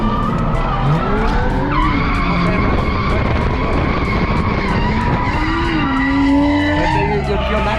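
A drift car makes a handbrake entry, its tires skidding and squealing in a long rising and falling screech over a loud engine, with a voice faintly under it.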